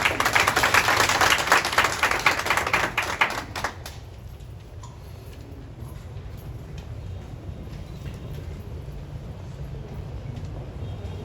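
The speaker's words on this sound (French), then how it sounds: "On l'applaudit encore." A ceremony audience claps briskly and fairly close for about four seconds, then the clapping stops abruptly, leaving a low hum for the rest of the time.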